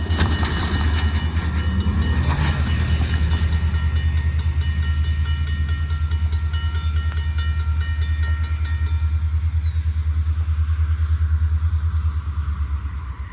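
Long Indiana & Ohio grain freight train working hard up a grade in the rain, locomotive running long hood forward; a deep, steady diesel drone fills the whole stretch with bright wheel and rail whine that fades out near the end.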